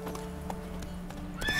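The horse Roach gallops in The Witcher 3: Wild Hunt Next-Gen, a close, steady clip-clop of hooves with a brief whinny-like rise at the end.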